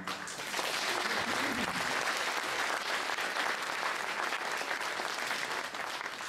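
Audience at a book fair inauguration applauding, a steady, even wash of many hands clapping throughout, moderately distant and without speech.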